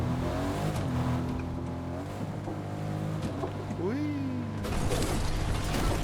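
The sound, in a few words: car driving in Fortnite video game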